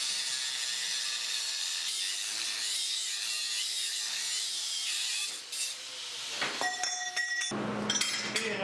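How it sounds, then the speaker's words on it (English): Metal tubes being cut during a snow plow repair in a workshop, a steady grinding, rasping cut that runs for several seconds, then scattered clinks and tool knocks as the work finishes, fairly close and without speech. "now we'll go and cut our new tubes"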